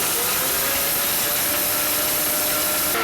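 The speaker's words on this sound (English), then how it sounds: "now you need to grind this to a fine powder" A grinder whirs loud and steady, pulverizing dry-roasted whole garam masala spices into powder, close and continuous with a slight change at the end.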